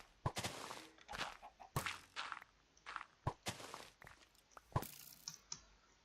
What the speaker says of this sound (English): That's a skeleton shooting at me, but it can't hit me